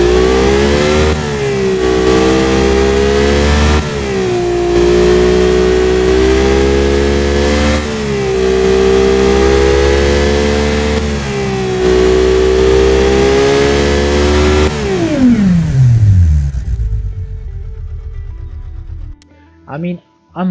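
A Mazda rotary replacement engine runs loud and close, holding a buzzy, steady idle around 800 RPM with small periodic swells, then shuts off and winds down into near silence.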